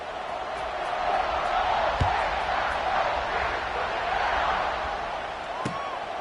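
A stadium crowd in College Football 26 roars as a broad, sustained wash of distant cheering and noise that swells gently mid-clip, with a couple of brief thuds cutting through.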